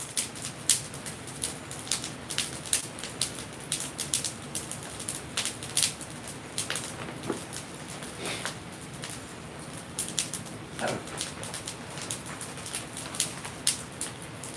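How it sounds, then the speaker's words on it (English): A wood-fired kiln burning at around 1500 degrees Fahrenheit gives off steady, fairly quiet crackling, with irregular sharp pops and snaps repeating throughout. "Chuck, the crackling sound does sound great, doesn't it?"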